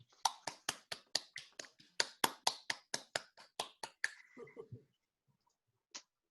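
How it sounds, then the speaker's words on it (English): Applause for an award recipient at a naval cadet corps ceremony, heard as a quick, even run of about twenty crisp, close claps from a few hands that stop abruptly, followed by a faint murmur and a single late tap. "Please, everyone, give a big round of applause to Chief Petty Officer 2nd Class Liam Grange"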